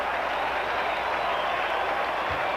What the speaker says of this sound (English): Right now they're cheering Mazzilli.